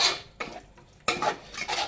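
Clam balls (kalwache gole) being stirred in a pot, a spoon scraping and clinking against the metal in bursts of scratchy strokes, close and fairly loud with no talking.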